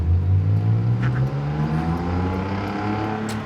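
A Roadster on its stock exhaust revs with a raspy edge, the engine holding a steady, loud drone with rising harmonics under acceleration. It stays close and continuous throughout, with no talk.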